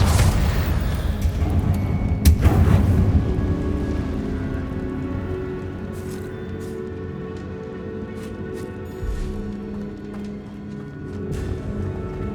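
Confringo blasting spell explosions in the video game Hogwarts Legacy: a loud low boom near the start, then a dense rumbling crackle that decays into scattered sharp pops and debris-like ticks, no voices.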